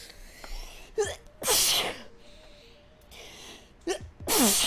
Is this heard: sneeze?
yes